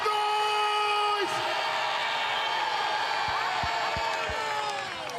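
A large crowd at the DA Federal Congress roars and cheers in a dense, sustained wash of noise, loud and close throughout with a few whoops and a brief tonal sweep near the start.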